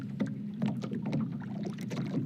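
Game audio of water slapping against a boat floating on the surface, in a Unity-made first-person shooter, as a continuous close patter of small irregular splashes at an even level, with nobody talking.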